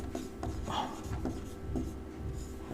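Pencil or pen scratching across paper during a class 8 maths lesson, a steady soft rasp with short strokes repeating close by, no talking.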